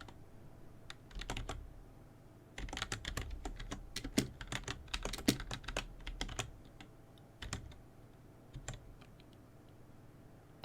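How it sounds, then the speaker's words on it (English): Keys clack on a computer keyboard in quick irregular bursts, dense at times and sparse at others, recorded close and fairly quiet with no talking. "We're typing, we're programming, but we're programming in English."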